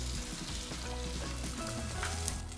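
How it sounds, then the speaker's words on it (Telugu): Moong dal (split yellow lentils) frying in hot ghee with cumin and curry leaves, a steady dense sizzle that holds close and even throughout with no voices. "ఇప్పుడు పెసరపప్పు మంచిగా వేగింది"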